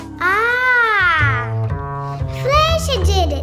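A high, drawn-out meow rises and falls, then a second wavering meow follows, close by and loud, with low background noise underneath.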